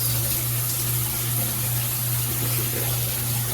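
A Tudoccy 8-inch high-pressure rainfall shower head runs full, a loud, constant hiss of spray with a low steady hum beneath, and no one speaking.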